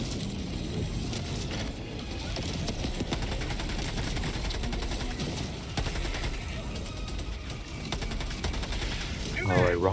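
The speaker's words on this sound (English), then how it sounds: "Let's call on this machine gun sentry." Rapid machine-gun fire from a deployed sentry turret in a video game, a steady loud mechanical rattle running nearly continuously, with game effects and faint talk mixed in.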